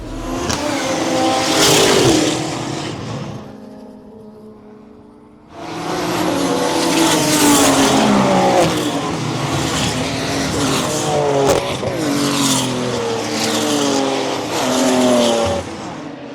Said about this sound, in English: A good start from everyone, and Thompson did not take long to start slicing his way through the field